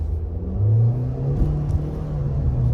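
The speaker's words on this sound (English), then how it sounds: "Green light. Let's just test out the acceleration really quick." A Nissan Kicks pulling away from a green light, its engine rising in a steady low drone with a climbing pitch from inside the cabin, moderately loud, with road rumble underneath.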